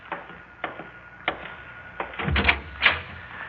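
A door opening as a radio drama sound effect: scattered light clicks and taps, then a fuller rattle and thud of the latch and door near the middle, fairly close.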